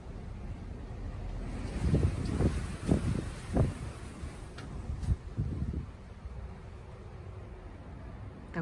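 Wind gusting outdoors in late autumn, buffeting the microphone in low rumbling bursts that swell and fade over a soft steady background, no talking.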